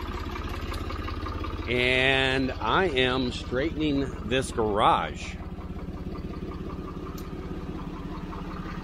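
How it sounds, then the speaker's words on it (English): Old Ford industrial tractor engine idling steadily at a garage renovation site, a continuous low mechanical drone running throughout beneath a man's speech in the middle. "I'm using the old Ford industrial tractor"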